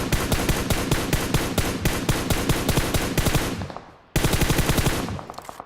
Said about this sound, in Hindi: और आते ही गोलियों की बर्बादी चालू हो गई।